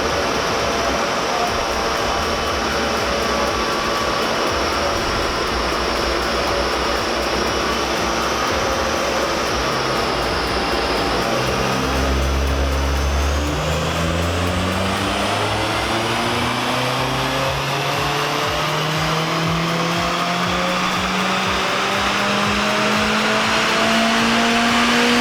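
A tuned Mazda MX-5 with a stainless steel 4x1 exhaust manifold, performance camshafts and a remap, run hard on a dyno: a loud sustained engine roar climbing steadily in pitch through the revs, heard alone without talk.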